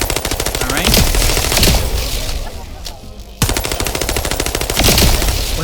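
Rapid automatic gunfire from a video game shooter, The First Descendant, fills the scene in long dense bursts, pausing briefly for a reload before resuming just as loud and fast.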